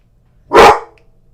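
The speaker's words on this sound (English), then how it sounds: "My dog goes nuts when the UPS guy gets here." A single loud, sharp dog bark rings out close by, one short burst with nothing else around it, the kind set off by a UPS delivery driver arriving at the door.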